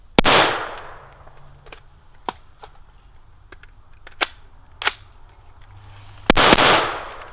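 A gun fires rounds, with two loud, sharp, close reports, one at the start and one near the end. Faint metallic clicks and handling noises fall in the quiet between them.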